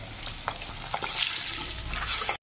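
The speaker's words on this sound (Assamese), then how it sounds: "এয়া দেখিছে সৰিয়হতে ফুটি গ'ল" Mustard seeds splutter in hot oil in a pan while cooking an egg curry, a continuous close crackling sizzle with a few sharp pops, cutting off abruptly at the end.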